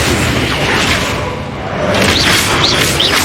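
Loud Confringo blast spell explosion in the video game Hogwarts Legacy, a dense booming burst that swells, dips briefly and roars again with whooshing spell effects.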